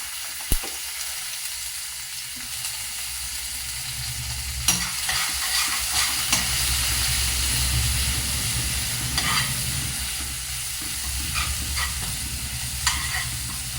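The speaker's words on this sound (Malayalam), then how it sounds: "ചെറിയ ഉള്ളിയല്ല, സവോള തന്നെ ഊറ്റിക്കുന്നത്. ഉള്ളി വെളിച്ചെണ്ണ ഒഴിച്ചു." Chopped onions (big onion, not shallots) fry in coconut oil for a Kerala chana masala, a steady close sizzle with occasional scraping stirs and clinks of a spoon against the pan.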